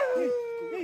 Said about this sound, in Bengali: ওখানে কুকুর ডেকে উঠলো ভাই